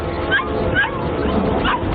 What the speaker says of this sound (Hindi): घर के नीचे किसी पर भौंक रही है।